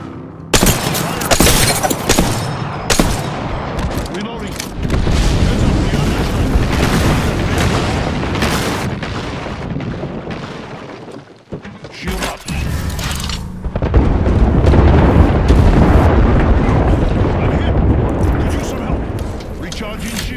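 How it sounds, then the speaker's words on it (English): Gibraltar's airstrike in the Apex Legends battle game sets off a long barrage of loud, overlapping explosions that rumble and crack for about twenty seconds, with dense game noise and talk mixed in. "Calling the airstrike."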